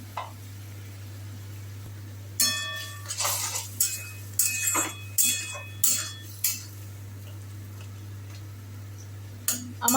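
Periwinkle snails being placed into a pot for a curry produce a series of sharp clinks and rattling knocks, irregular and close, over a low steady hum from the stove.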